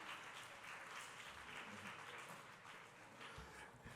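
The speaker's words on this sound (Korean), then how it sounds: "박수로 환영해 주십시오" A youth worship gathering welcomes a small group team with applause, a faint, continuous wash of clapping from a room of people, steady throughout with a few low thumps near the end.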